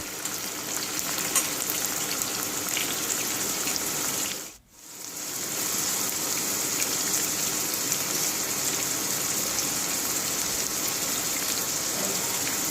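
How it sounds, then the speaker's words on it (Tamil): Onions fry in a pan until golden, giving a dense, steady sizzle that fills the whole stretch, broken once by a brief dip, and no one speaks. "வெங்காயம் நல்லா வதங்குற அளவுக்கு பொன்னிறமாக நல்லா வறுத்து எடுத்துக்கோங்க."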